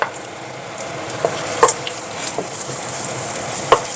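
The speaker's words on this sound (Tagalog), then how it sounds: "maglagay tayo ng konting mantika. So, yan, igisa muna natin tong bawang." Garlic sautéing in a little cooking oil in a pan that held browned ground meat, giving a steady close sizzle broken by a few sharp spatula scrapes and stirs.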